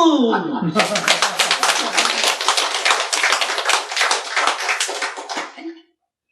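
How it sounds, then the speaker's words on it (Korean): A group claps together at a Buddhist sutra lecture, a brisk burst of hands lasting about five seconds, close and moderately loud, after a brief voice at the start, then fading out. "박수!"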